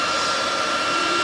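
Twin helmet pumper fans on a Polaris RZR Pro R blow air in a loud, steady whoosh with a constant whine, close by and alone without any talk.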